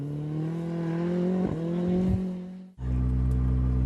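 A rally car slides at full throttle on a Jännerrallye stage of the 2015 European Rally Championship, its engine roaring loud and close with a pitch sweep mid-pass, a brief cut, then steady high revs.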